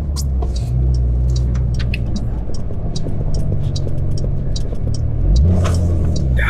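A Porsche 911 Carrera drives on winter roads, its engine a loud steady rumbling drone close up, swelling briefly near the end, with scattered clicks and knocks from the cabin.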